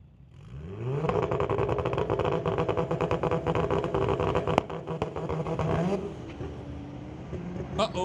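A Honda Civic lines up against a 2024 Audi for a street-legal drag race launch at a raceway. Engines roar loud and sustained for several seconds, with a sharp pop midway, and an announcer's voice runs over the racket.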